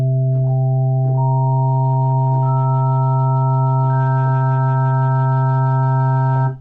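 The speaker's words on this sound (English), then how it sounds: "That's a sine wave though" A steady synthesized sine tone from an Xfer Serum synthesizer, with further pure notes stacking on top one after another into a sustained, increasingly dense chord that cuts off abruptly at the end.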